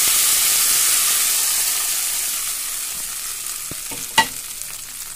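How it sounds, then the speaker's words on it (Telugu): Tempering of chana dal, cumin and dried red chilies frying in hot oil, a loud, steady close sizzle that slowly fades, with a few light stirring clicks and one sharp spike near the end. "శనగపప్పు, జీలకర్ర, ఒక 2 ఎండుమిరపకాయలు వేసుకొని పోపు ఫ్రై చేసుకుంటాం."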